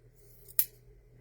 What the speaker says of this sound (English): Where did I put my scissors? There we go.